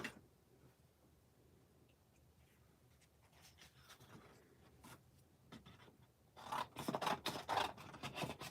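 Scissors cut through craft paper for a card, a soft faint rustle at first, then a run of louder crisp snips and paper crackles near the end, with no voices.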